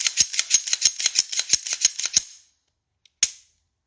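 A handgun's action cycled repeatedly after reassembly: a rapid run of about a dozen crisp metallic clacks and snaps, close and loud, then a pause and one final sharp click.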